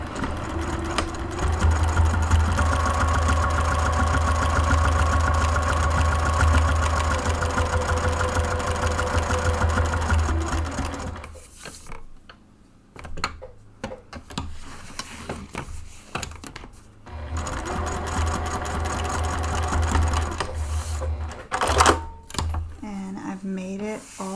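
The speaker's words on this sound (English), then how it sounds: "I'm going to run a row of stitching down the right, and a row of stitching down the left, and a row of stitching down the center" A sewing machine stitches fabric onto webbing for a bag strap, its close, fast mechanical whirr running in long steady bursts that stop and restart with quiet handling noises between them.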